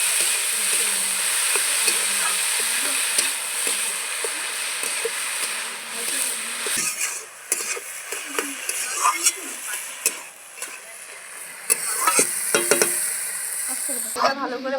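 Banana flower being stir-fried with prawns in a pan, a loud continuous sizzle at first, then uneven scraping and tossing strokes with bursts of frying hiss as the pieces are turned.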